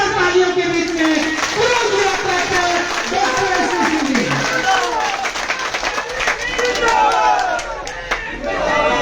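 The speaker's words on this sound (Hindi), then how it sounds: "जोरदार तालियों के बीच में" Crowd at a political rally cheering and clapping loudly, with shouts and voices rising over the applause and a person speaking through the noise.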